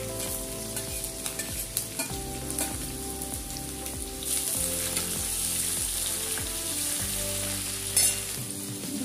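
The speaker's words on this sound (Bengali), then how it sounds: "সবজিগুলি হালকা করে ভেজে নিলাম, এবার ক্যাপসিকাম আর কাঁচা লঙ্কা চেরাগুলি দিয়ে দেব।" Capsicum and slit green chillies frying with vegetables in a pan for veg fried rice, a steady close sizzle with periodic stirring scrapes, continuous and fairly loud with no voices.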